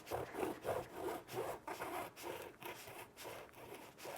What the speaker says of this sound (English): Let's go ahead and cut into the middle.